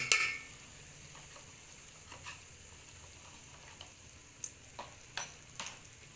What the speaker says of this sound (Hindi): इसको हम अच्छी तरह मिक्स कर लेंगे